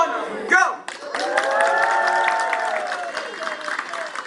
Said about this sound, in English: we're all going to cheer, holler, make a huge scene